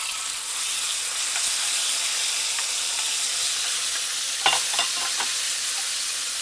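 Strips of pepper frying in olive oil in a pan give off a steady, close sizzling hiss throughout, with a brief flurry of louder crackles and pops partway through.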